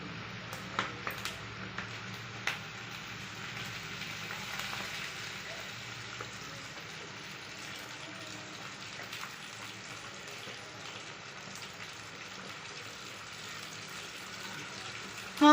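Chicken frying in half a litre of peanut oil for a chicken pickle, a soft, steady, rushing sizzle with a few faint early clicks.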